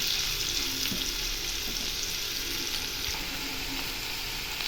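Kara ukkalipputtu, a spicy traditional village-style dish, frying in oil in a pan, with a steady, dense, close sizzle that runs throughout without pause.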